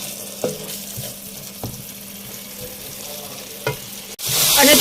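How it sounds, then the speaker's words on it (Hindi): Tomato puree hits a pan of frying onion, garlic and ginger for chicken tikka masala, a few soft stirring knocks, then a sudden loud close sizzle at the end. "प्यूरी हम इसमें शामिल करके इसके साथ भी इसको भूनेंगे।"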